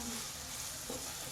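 Salted onions frying in a pan for mushroom masala make a steady, even sizzle with faint stirring, close by and alone.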